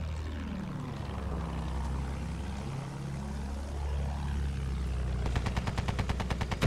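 Rapid gunfire in a video game as a player shoots at a flying target, a loud burst of evenly spaced shots near the end over a continuous droning engine and whooshing sweep.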